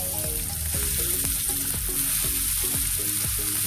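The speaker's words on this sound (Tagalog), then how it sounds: "At hayaan natin itong igisa at lumambot." Pork meat sautéing in a pan after garlic and ginger for ginisang monggo, a steady loud sizzle with rhythmic scraping strokes of a spatula stirring throughout, close and continuous with no talk.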